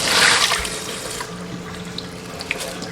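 Mung beans are rinsed under running tap water in a sink, with a close rush of water at the start that settles into light splashing and trickling.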